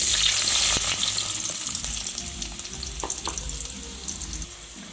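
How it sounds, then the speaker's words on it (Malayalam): Thinly sliced onion fries in hot coconut oil for a quick mushroom masala, producing a loud, close, crackling sizzle that eases slightly over several seconds, with occasional stirring knocks. "ഇനിയിപ്പം നമ്മൾ ഇതിലേക്ക് ആദ്യം ചേർത്ത് കൊടുക്കുന്നത് ഒരു സവോള ഇതുപോലെ ചെറുതായിട്ട് സ്ലൈസ് ചെയ്തതാണ്."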